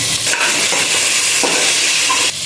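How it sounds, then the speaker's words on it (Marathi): Sliced tomatoes frying in hot oil with salt, stirred in a pan; a steady close sizzle and hiss runs throughout with soft scraping stir strokes, cutting off near the end. "या तेलामध्ये चांगला फ्राय करून घ्यायचं दोन टॅमॅटो कट करून घेतलेले आहे उभे ते घालूया"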